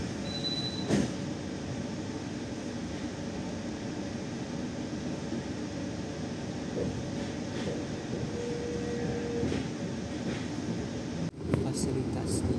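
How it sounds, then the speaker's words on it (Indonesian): Gaya Baru Malam Selatan economy-class passenger train pulling out of Madiun station, a steady close rumble of rolling wagons and wheels that swells slightly before a sharp clunk near the end, with voices in the background. "kereta api Gaya Baru Malang Selatan berangkat meninggalkan stasiun"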